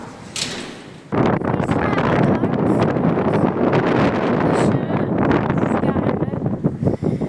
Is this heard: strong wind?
yes